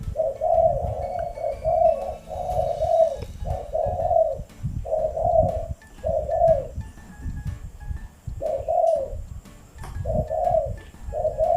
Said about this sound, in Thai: ตัวอื่นจะขันรับระงมเลยแหละ